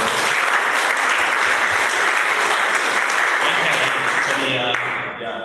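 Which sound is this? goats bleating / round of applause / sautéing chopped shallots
round of applause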